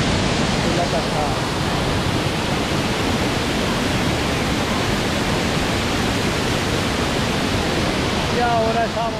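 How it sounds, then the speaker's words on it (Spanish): A waterfall in San Carlos, Antioquia, Colombia pours with a loud, dense, unbroken rushing roar that fills the whole stretch, close by and steady. "es la cascada."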